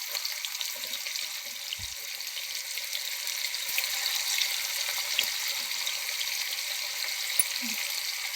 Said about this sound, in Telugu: ఇప్పుడు ఈ ఫిష్ ముక్కలు ఇందులో వేసుకొని ఫ్రై చేసుకుందాం అండి